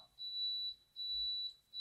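A refrigeration controller sounds its E0 error alarm as a thin, high electronic beep, repeating in long even pulses with short gaps. Three tones are heard, fairly faint and alone.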